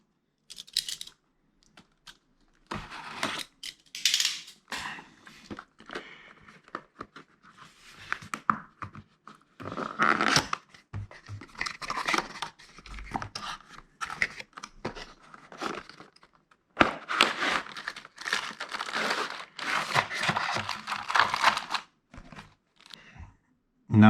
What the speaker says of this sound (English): Now let's unbox it and see what's inside the box.